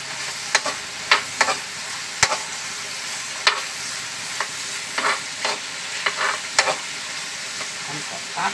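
Garlic sizzles steadily in a hot pan while being stirred for pork ribs caldereta, with sharp spatula scrapes and clinks recurring every second or so over the continuous frying hiss; no voices.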